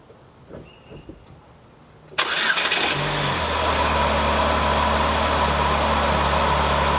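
A few quiet clicks, then a 2010 Chevy Cobalt engine cranks and catches with a sudden roar after VVT solenoid replacement, settling into a steady, close idle.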